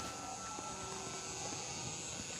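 An FMS PA-18 Super Cub, a 1.7 m electric RC model plane, drones faintly and steadily in level flight at a distance, with no talking.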